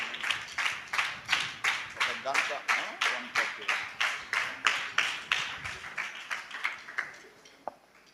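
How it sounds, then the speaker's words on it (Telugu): A church congregation claps together in a slow, steady rhythm to welcome a preacher, about two dozen even group claps that gradually fade out, ending with one last stray clap. "చప్పట్లు కొడుతూ దైవజనుడు స్పర్జన్ గారిని ఆహ్వానిద్దాం"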